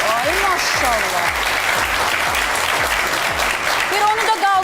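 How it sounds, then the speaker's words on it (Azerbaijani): A crowd at a meyxana competition in Lankaran claps loudly and continuously, dense applause running throughout with a voice speaking over it. "Bir özünüzü alqışlayın, görək kimlər var."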